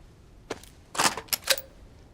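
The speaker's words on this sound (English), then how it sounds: "Listen to this when I put the mag back in." Gun magazine being pushed back into a P1 pistol in the video game DayZ, a quick series of four sharp metallic clicks and clacks, close and crisp against near silence.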